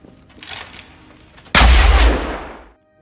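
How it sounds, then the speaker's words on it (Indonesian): Film gunfire in a foggy battle scene: faint scattered shots lead into one loud, sharp blast whose roar decays over about a second before cutting to silence. "Yuri sempat diserang oleh para tentara hingga terjadilah aksi tembak-tembakan meskipun kondisinya dipenuhi kabut."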